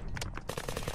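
Rapid automatic gunfire in the video game Unturned, a quick burst of close sharp shots firing in a tight rhythm within a single second.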